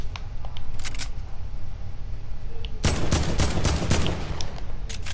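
Gunfire in the video game Fortnite, a sudden close burst of rapid shots about halfway through that cuts loudly over a low, steady background rumble.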